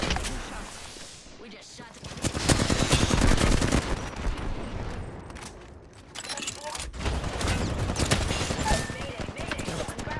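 Sustained gunfire from the battle-royale game Apex Legends goes on steadily through the whole stretch, dense and close, mixed with other busy game noise and no talk.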